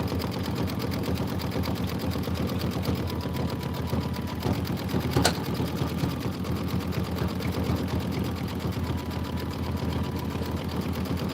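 An embroidery sewing machine stitches a Kimberbell Enchanted Winter design, a fast, even mechanical rattle running continuously throughout with one brief sharp click midway.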